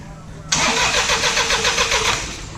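An old diesel engine that has sat for five years cranks over on its starter without firing, a loud, close, rhythmic churning that goes on for about two seconds.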